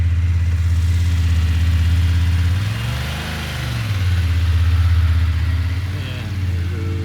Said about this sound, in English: And there goes Kevin on his big BMW